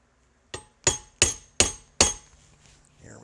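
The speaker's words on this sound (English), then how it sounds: "So we'll take the small hammer and get it running." A small hammer strikes a Lewis gun firing pin during a repair, five sharp metallic taps at a steady, slightly quickening rhythm, close and clear, each ringing briefly with a bright clink before a quiet tail.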